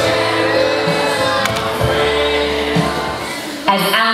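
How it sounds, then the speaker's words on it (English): A crowd cheers and shouts during a rock opera performance, loud whoops and yells rising over a sustained musical backdrop, with a sharp burst near the end. "cheering."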